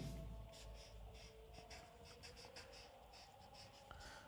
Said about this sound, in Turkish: Mesela buraya bir örnek cümle yazıyorum.